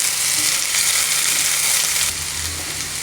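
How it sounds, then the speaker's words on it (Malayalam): Garlic and finely chopped onion sauté in a hot pan for an Italian lasagna sauce, giving a steady, close, dense sizzle that continues throughout with no talking. "ചെറുതായി അരിഞ്ഞിട്ടുള്ള ഉള്ളി ചേർത്ത് കൊടുക്കാം"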